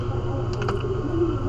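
Brief burst of computer keyboard typing, a few quick clicks close together near the middle over a steady background hum.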